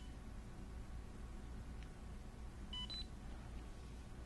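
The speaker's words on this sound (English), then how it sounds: "The beep indicates that it has been connected." A couple of short, high electronic beeps from a Socket Mobile barcode scanner connecting to an iPad ring out over a steady background hiss, bright and close.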